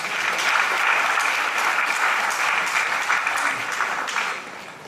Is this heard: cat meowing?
no